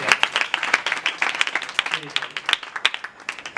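Loud applause from a church congregation during a Father's Day sermon, a dense burst of clapping lasting a few seconds with some voices mixed in.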